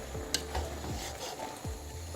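A spoon stirs collard greens and smoked sausage in a big pot, with a few rhythmic scraping, sliding strokes against the metal over a low simmering hiss, close and with no talking.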